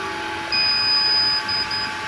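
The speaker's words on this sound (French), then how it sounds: "il émet donc un bip sonore une fois qu'il a fini" A V3CLEAN window cleaning robot signals it has finished: a high electronic beep for about a second, then two shorter beeps, over a steady mechanical hum.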